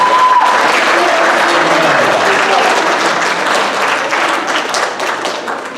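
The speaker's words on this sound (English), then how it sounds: "So would you give yourselves a round of applause for being out here tonight?" Applause from a school concert audience at a middle school winter program, a dense, loud wash of clapping that fills the whole stretch and tapers slightly toward the end, with crowd murmur mixed in.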